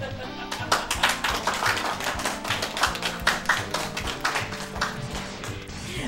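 A live event audience applauds in the hall of a Mega Man X3 speedrun race, dense rapid clapping filling the room throughout with a voice talking over it.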